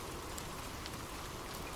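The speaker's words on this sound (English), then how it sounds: "The sound of abundant rain." Steady, abundant rain falls in a dense, even hiss with no pauses, close and constant throughout, with no voices or other sounds.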